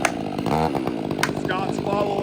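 A chainsaw cuts through a leaning oak tree beside a house, running loud and steady throughout, close and constant with brief pitch shifts as it bites into the hinge wood, with voices faintly under the engine.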